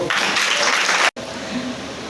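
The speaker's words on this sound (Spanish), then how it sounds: "Fuerte el aplauso para el Señor." A church congregation at a seminar on divorce and remarriage claps for the Lord; a burst of broad, loud applause that cuts off abruptly, followed by a quieter room tone.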